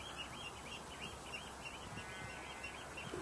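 A freshly fledged mistle thrush chick on an allotment gives faint, scratchy calls against a hissy outdoor background.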